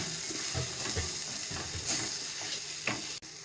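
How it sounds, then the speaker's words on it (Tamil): Grated coconut being stirred into a radish greens stir-fry in a hot pan, with a steady, close sizzle and frying hiss under repeated scraping stirs of the spoon, and no talking. "தேங்காய் சேர்த்து நல்லா கிளறி விட்டுக்கலாம்"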